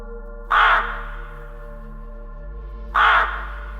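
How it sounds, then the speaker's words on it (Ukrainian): A raven caws twice, loud and close, two harsh rasping calls a few seconds apart over a low steady drone, used as a sound effect in a spooky story. "Пронизливий крик Ворона вирвав мене зі стану заціпеніння."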